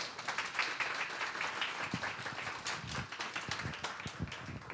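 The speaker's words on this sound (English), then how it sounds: "Big round of applause," Audience at a women-in-tech mentorship talk gives a round of applause, a soft, steady patter of many hands clapping at middle distance for several seconds, with a few distinct individual claps.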